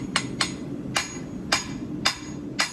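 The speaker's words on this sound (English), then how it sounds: "hammer on horn of forging this steel, and it's growing" Steel horseshoe hammered on the horn of an anvil during a rotten hoof restoration: six sharp, ringing metallic strikes at a slightly uneven pace, close and clear with no voices.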